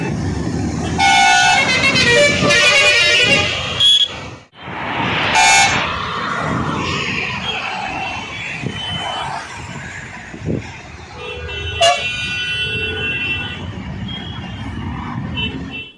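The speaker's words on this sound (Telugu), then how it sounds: "దీంతో కిలోమీటర్ల మేర ట్రాఫిక్ నిలిచిపోయింది." Repeated car and truck horns blare in a standstill highway traffic jam near Chityal in Nalgonda district, on the Vijayawada–Hyderabad road, with long close honks early on, a sudden break, then more scattered toots over steady traffic rumble.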